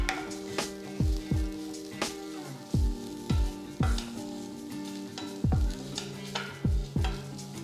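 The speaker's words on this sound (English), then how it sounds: "Keep the flame on medium and continue to fry the slices till you get a nice rich brown color." Bitter gourd slices fry in a spiced masala of Kashmiri red chilli, cumin and coriander powder over a medium flame, a constant close sizzle broken by a dozen rhythmic spatula scrapes and taps against the pan.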